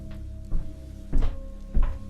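Three dull knocks on wooden floorboards, spaced apart, thudding against a steady low hum in a quiet room.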